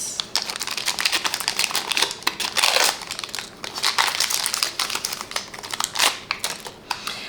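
Photo film packaging is torn open with loud, close crinkling and ripping in irregular bursts, repeated crackles continuing throughout.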